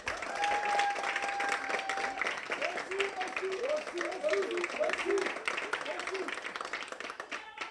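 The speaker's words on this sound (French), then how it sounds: "applaudissez pour eux" A neighbourhood gathering in the Canadienne quarter keeps up sustained applause, dense clapping heard alongside voices and short melodic calls or cheers over the crowd.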